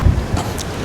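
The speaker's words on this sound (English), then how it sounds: "Look at the wind blowing." Strong Santa Ana wind in Southern California buffets a DJI Mic Mini outdoors, giving a brief, loud, low rumbling gust of wind noise.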